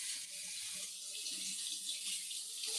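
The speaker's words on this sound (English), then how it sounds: "Let me wash these off." Peeled potatoes rinsed under a running kitchen tap, a steady close hiss of water splashing into the sink throughout with no talking.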